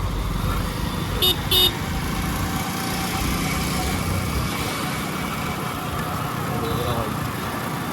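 Steady engine drone and wind noise from a motorcycle being ridden in cold weather run throughout, with a couple of brief horn toots near the start and a voice talking over it.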